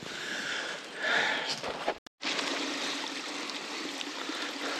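A horse stands in a shallow stream that flows and trickles steadily, a constant broadband wash of water close by, with a brief dropout midway.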